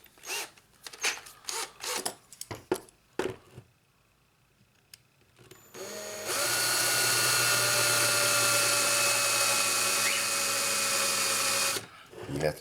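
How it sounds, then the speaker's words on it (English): A small drill bit bores out the posts on a Hot Wheels Firebird restoration, a steady loud whine lasting about six seconds after a stretch of scattered handling clicks and taps. "So we're going to go ahead and drill out the posts with a small drill bit like this"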